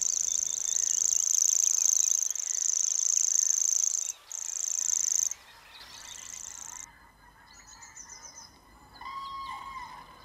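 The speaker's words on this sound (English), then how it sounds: "Gilbert White on the grasshopper warbler" A high, dry insect-like reeling trill runs continuously, pausing briefly and changing, with other bird calls appearing faintly later on.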